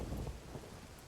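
A video-game thunderstorm gives a steady, dense rush of rain over a low, rolling rumble of thunder, a constant wash of noise with no voices.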